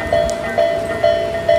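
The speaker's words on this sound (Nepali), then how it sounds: "यो चाहिँ ट्रेन आउने बेलामा यस्तो साउन्ड आउँदो रहेछ अनि यस्तो लाइट बल्दो रहेछ" Railway crossing warning bell in Japan sounding as a train approaches, a loud, close electronic ding repeating at an even pace about every half second.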